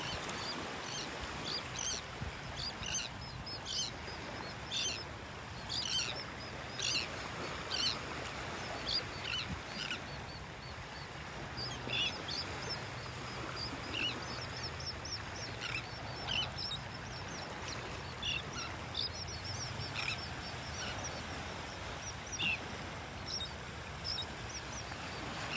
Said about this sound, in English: You hear all the birds here.